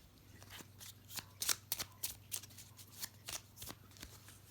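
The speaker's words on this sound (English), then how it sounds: "So I'm going to pull 2 cards for here, 2 cards here." Tarot-style cards are drawn from a deck and laid out in a spread, making a series of quiet, crisp slaps and flicks in an irregular rhythm, close by and without speech.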